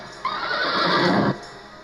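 A mare lets out a single loud, close whinny lasting about a second, alone with no voices.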